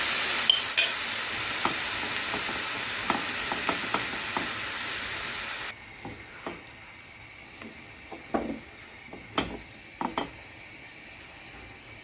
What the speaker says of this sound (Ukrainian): відправимо у пательню смажитись